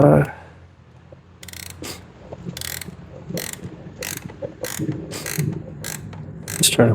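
A hand ratchet tightens a KUNGKIC sequential side marker light on a 2026 Subaru, making repeated short bursts of close, crisp clicking with brief pauses between the turns.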